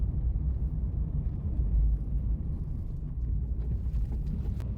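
Vehicle rolling along muddy village roads, a low steady engine rumble with wind buffeting the microphone, moderately loud and continuous, with faint clicks and knocks near the end.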